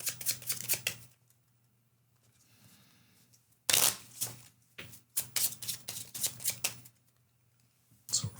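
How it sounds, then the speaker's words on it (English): Playing cards for a medieval flip-and-write castle defense board game being shuffled in several close, crisp riffling bursts separated by short quiet pauses. "So I gotta shuffle these real quick."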